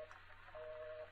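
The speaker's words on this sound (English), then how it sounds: "Dial tone." A telephone dial tone from the video game Gone Home plays as a faint, steady electronic hum, brief and alone.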